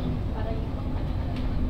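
An LRT 1 light rail train rumbles as it pulls out of the station, a steady low, dense roar of rolling wheels and motors close by.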